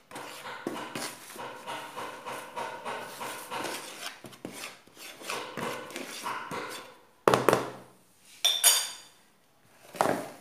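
A spoon scrapes and clinks in a bowl while baking powder and baking soda are mixed, uneven rubbing strokes with sharper metallic taps toward the end, close and fairly quiet.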